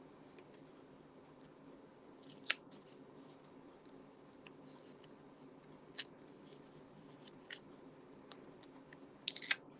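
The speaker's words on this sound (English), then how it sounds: "let's just use our scissors and we'll trim this off in a bit" Quiet scissors trimming paper for a handmade card snip repeatedly, with sharp crisp cuts spaced irregularly over a faint background hum, close to the microphone and otherwise silent.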